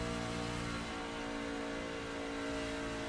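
A race truck's engine drones from inside the cab in a racing video game during an event at Las Vegas Motor Speedway, a loud, steady, buzzing tone that eases slightly partway through and then holds.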